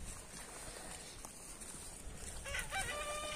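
Chickens clucking and a rooster crowing in a village yard, with scattered clucks early on before a clear, fairly close crow near the end, over faint outdoor background.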